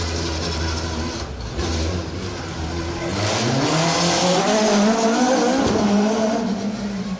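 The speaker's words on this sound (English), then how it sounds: "you'll be seeing a car tackle this little donut at the start of the stage" A Darien T90 GTR rally car engine revs hard and close while circling a donut at an asphalt rally stage start, its pitch climbing and dipping, with tyre noise and grinding mechanical sounds, no voices.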